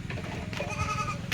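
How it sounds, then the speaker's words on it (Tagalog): Goats bleating on a rural farm in the provinces, two or three short wavering calls close by, overlapping one another against low background noise. "Yung mga ibang kambing."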